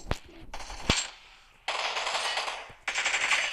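Automatic gunfire in the PUBG battle royale game, several sharp bursts of rapid shots with brief pauses between them, loud and close, with no talk over them.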